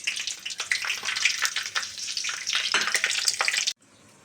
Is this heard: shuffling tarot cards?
no